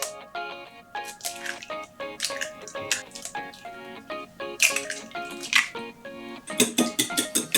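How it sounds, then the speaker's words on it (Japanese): Whole eggs cracked one after another into a bowl while making a firm café-style pudding, with sharp shell taps, wet splats and light clinks of bowl and utensil, close and fairly quiet with no talking. "牛乳を温めてる間にですね、卵を割っておきます"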